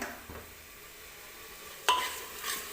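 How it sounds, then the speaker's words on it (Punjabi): Masala frying in ghee for matar mushroom is stirred in a pan, a faint steady sizzle with an occasional sharp scrape of the spoon against the pan. "ਆਪਾਂ ਮਸਾਲਾ ਉਨੀ ਦੇਰ ਤੱਕ ਭੁੰਨਾਂਗੇ ਜਿੰਨੀ ਦੇਰ ਤੱਕ ਇਹ ਘਿਓ ਨਹੀਂ ਛੱਡਦਾ"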